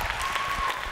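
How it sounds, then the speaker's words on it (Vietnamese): Audience applause at a Vietnamese TV party show, a brief steady wash of clapping from a studio crowd with no voices over it. "Một tràng vỗ tay dành cho cô gái bé nhỏ của chúng ta nào."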